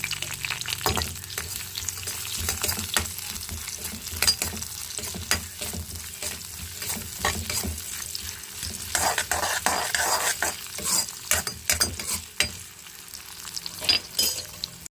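Onions sizzle in hot oil in a pan while a spatula stirs and scrapes them. The frying is loud and close, with uneven clinks and scrapes over a steady crackle. No voices.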